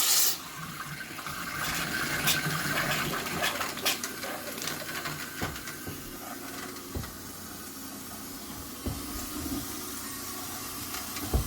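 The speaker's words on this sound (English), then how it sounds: "Let's turn the water faucet on." A kitchen faucet runs steadily after an under-sink water filter is installed, with a continuous splashing hiss of flowing water and intermittent clicks and knocks. No voices are heard.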